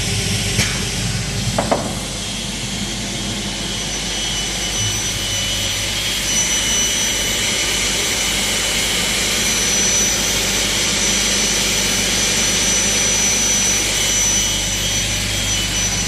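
Blitz industrial cutting machine closing its covers and running a cut, a loud, steady roaring hiss like a jet or blower that swells slightly and holds, with a couple of faint clicks near the start.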